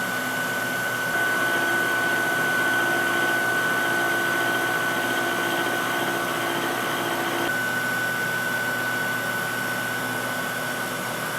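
Milling machine on a rotary table cutting checkering into the front strap of a 1911 pistol frame, a steady loud motor whine with a constant tone that shifts pitch partway through, no talking.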